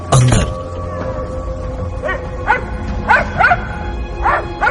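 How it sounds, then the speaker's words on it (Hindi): Small pet dog barking indoors in a bedroom, a loud close bark at the start followed by several sharper yips and barks spaced irregularly over a low steady background hum. "मीरा सीधी भागती हुई अंदर अपने बेडरूम तक पहुंची, जहां से पॉमी के भौंकने की आवाज आ रही थी"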